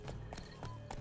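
Horse hooves clop in The Witcher 3 video game, a brief run of about four rhythmic, fairly loud hoofbeats over a low game soundscape.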